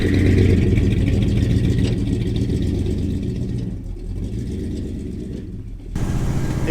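A car fitted with a Quadrajet carburetor driving along, its engine running with a steady mid-pitched rumble that dips briefly and then picks up again, with no talking.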